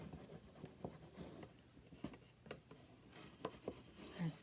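A tool rubs along the edge of a makeup prosthetic to burnish it, making faint, soft scratchy strokes in an irregular rhythm, close and quiet.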